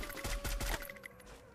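Rapid bursts of gunfire from the battle royale video game Free Fire, several quick loud shots clustered in the first moments, then fading into quieter game ambience.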